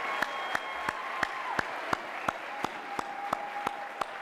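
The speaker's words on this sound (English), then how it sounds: "give yourselves a round of applause." An audience at the SEVA 2013 award night applauds. Evenly spaced, sharp claps ring out over a soft wash of crowd clapping, keeping a slow, regular beat.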